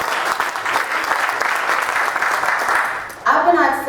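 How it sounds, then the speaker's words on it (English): An audience gives a round of applause for conference organizers, dense, even clapping that eases off before a speaker's voice takes over at the end. "let's give the organizers a round of applause for the hard work that they've done"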